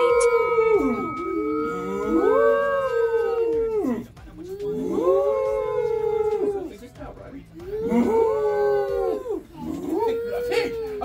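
Voices imitate a cow's moo during a family animal yoga workout, producing three long, drawn-out, wavering calls in a row with short pauses between them, several people joining at once.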